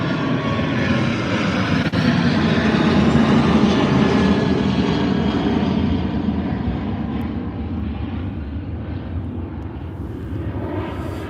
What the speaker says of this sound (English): Ryanair 737 off over to warmer,